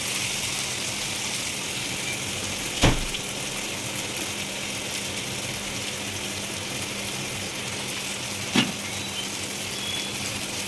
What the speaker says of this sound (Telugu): ఇప్పుడు ఆనియన్ పచ్చిమిర్చి కూడా వేసేస్తాను